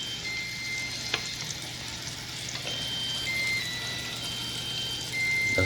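Big meatballs browning in a hot pan for old-fashioned spaghetti and meatballs, a steady soft sizzle running throughout with a faint clink near the start and no talking.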